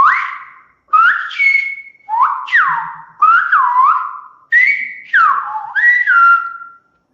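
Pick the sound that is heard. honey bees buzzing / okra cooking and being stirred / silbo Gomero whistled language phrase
silbo Gomero whistled language phrase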